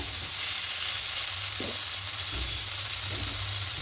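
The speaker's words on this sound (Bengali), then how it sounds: "সবজিগুলো হালকা করে ভেজে নিয়েছি" Vegetables with salt and turmeric fry in a pan for a mung dal dish, giving a steady close sizzle with a few soft stirring scrapes and no talk.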